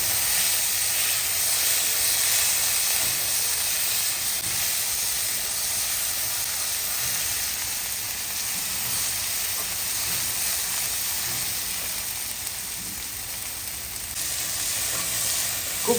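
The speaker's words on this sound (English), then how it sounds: "Add your tomato, 1 tomato, and again keep cooking." Tomato sizzling and frying in a pan while cooking a simple homemade dal, a steady, loud hiss of frying with a faint steamy crackle running throughout, no talking.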